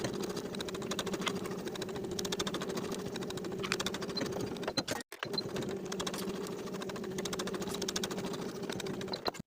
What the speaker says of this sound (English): Sew those bottom edges together at 3/8 of an inch.